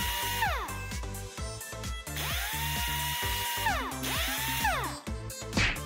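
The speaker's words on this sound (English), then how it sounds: "Screw on a sheet of plywood!" A power drill drives screws into a sheet of plywood in several bursts, each rising and falling in pitch, with short pauses between them. The drilling is close and loud, with no talk.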